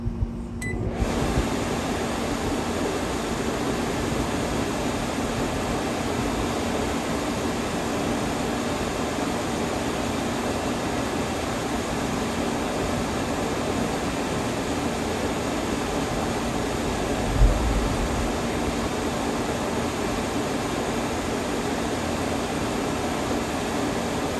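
A fan runs continuously at a steady level, giving a broad, even whooshing hum with a faint tonal drone underneath and one brief thump partway through, with no talking.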